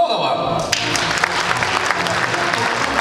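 A concert audience breaks into applause after a gymnasium student receives an award from the city mayor, the clapping starting abruptly and holding as a dense, steady wash at moderate volume.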